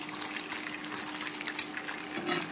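Fish pieces frying in hot oil, giving a dense, steady bubbling sizzle that stays loud and close for the whole short stretch, with no talking.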